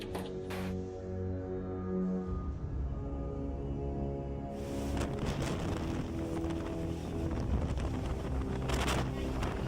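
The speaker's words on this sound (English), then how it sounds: "This heavy rain and wind really scared me." Strong wind roars and buffets the microphone during a violent storm with heavy rain, a steady loud rush that grows harsher and noisier partway through.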